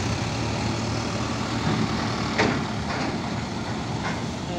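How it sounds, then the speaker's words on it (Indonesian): A box truck rumbles steadily at a ferry port dock during ship unloading, a low continuous engine drone close by with a few brief higher clanks partway through. "Ada truk box."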